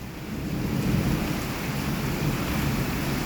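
Heavy rain pours down in a dense, constant roar during a storm in Rajkot with frequent lightning, low thunder rumbling beneath it.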